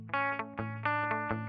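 An electric guitar is played through the delay section of a NUX MG300 MKII multi-effects unit, a few plucked notes and chords repeating in quick rhythmic echoes, loud and clear with no talk.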